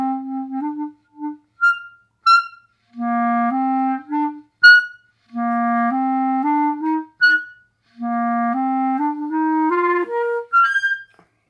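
Saxophone playing short melodic phrases, with sudden high, thin squeaks and chirps breaking out above the notes from embouchure pressure or a faulty reed; close, loud and solo with no talking.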